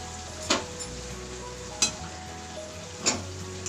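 Masala frying in a pan in a home kitchen, a soft constant sizzle with three sharp clinks of a spoon against the pan, spaced roughly evenly apart.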